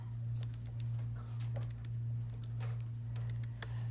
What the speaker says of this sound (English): you must type all of the numbers in for this to work correctly